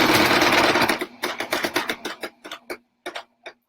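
A Brother XL 3750 sewing machine stitches fast and loud at first, then slows into a run of separate clattering needle strokes with short pauses.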